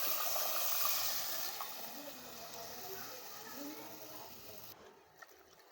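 Fish curry poured into a hot pan of tempering with curry leaves sizzles in a loud steamy hiss that gradually fades to a quieter bubbling simmer.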